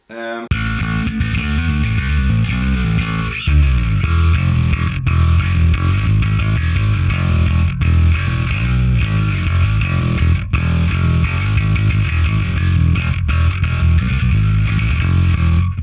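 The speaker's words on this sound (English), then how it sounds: "Aside from the distortion, we've also got the pitch down" A bass guitar through a Line 6 HX Stomp metal preset with distortion and pitch-down plays a continuous riff, thick and gritty with a lowered pitch, loud and alone throughout.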